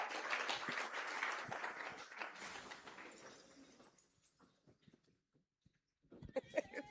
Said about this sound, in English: please join me in giving a big hand of applause